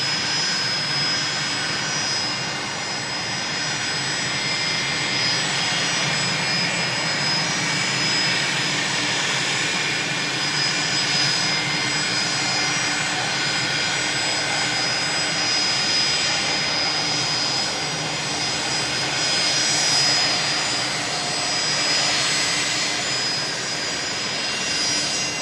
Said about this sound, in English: The Fokker 70, operated by Alliance, of course, for Virgin Australia.